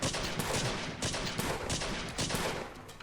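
Revolver fire in the Sift Heads video game, a quick run of several sharp shots in rapid succession, loud and dense, with no talk.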